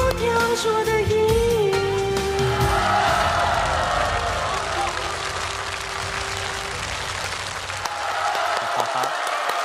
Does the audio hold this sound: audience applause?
yes